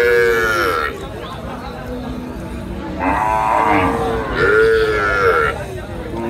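A cow with her calf at Sonaichandi cattle market in Chapainawabganj lets out three loud, drawn-out moos close by, while market chatter continues underneath.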